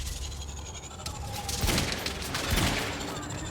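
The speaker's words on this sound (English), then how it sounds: "Oh, that's a turret." Turret gunfire in the video game Quantum Break: a steady, dense fusillade of rapid shots runs through the clip, with two heavier bursts swelling midway and near the end over constant background noise.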